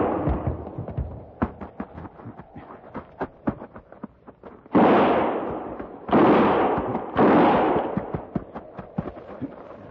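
Rapid sharp gunfire pops crackle in a radio drama battle scene, with three heavier broadband bursts like volleys or blasts landing near the middle and end, loud and dense with no talk over them.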